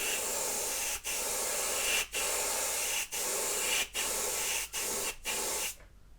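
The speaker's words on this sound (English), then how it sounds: "I've got the airbrush at a fairly high pressure, it's about 20 psi." Airbrush spraying primer thinned with levelling thinner at about 20 psi, a steady close hiss in six short bursts separated by brief pauses, ending in quiet.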